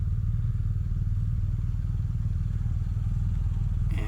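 Low, steady engine rumble of a BMW R1250GS motorcycle rolling through a tight clockwise practice turn, a continuous throbbing idle-like drone close by, with a faint clatter at the very end.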